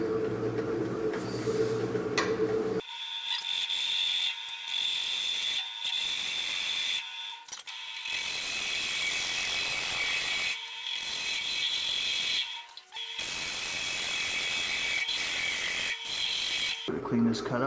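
A 1/4 inch roll gouge with a swept-back grind cuts a cherry bowl on a wood lathe, giving a steady, loud, buzzing chatter with a whining tone that stops briefly between passes.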